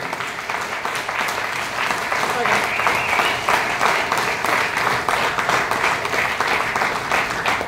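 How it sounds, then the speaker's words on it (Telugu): An audience at a motivational talk claps loudly and steadily, building from a softer start into a strong, continuous patter of many hands, with speech mixed underneath. "ఒకసారి గట్టి క్లాప్స్ కొట్టండి."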